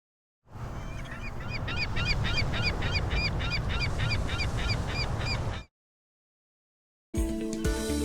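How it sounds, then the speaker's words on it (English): Loud, close seagull calls by the beach, a rapid series of harsh, squawking cries over a windy coastal noise bed, cutting off abruptly before a brief snatch of music. "It's a seagull."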